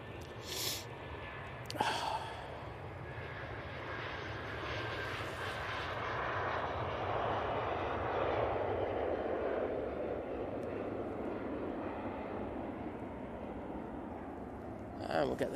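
An easyJet airliner lands on runway 05 right at Manchester Airport, a steady distant jet engine roar that swells and holds for the whole stretch while someone talks over it.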